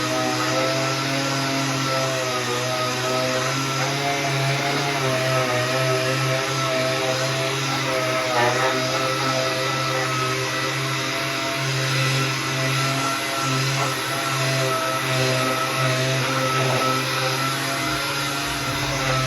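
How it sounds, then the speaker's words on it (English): A power sander works flat areas of a fiberglass motorcycle part with 180-grit paper, giving a steady, even whirring hum with a faint scratchy texture that runs without a break throughout. "I'm gonna hit all the flat spots on that piece, but not the edges."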